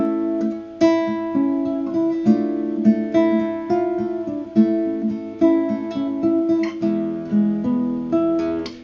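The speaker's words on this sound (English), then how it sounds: "Turn it into a 4 minor, and it would sound like this." Keyboard chords ring out in a steady rhythm, moving through a 1-4-5 progression with the 4 chord made minor, giving a somber color, each chord struck and left to decay.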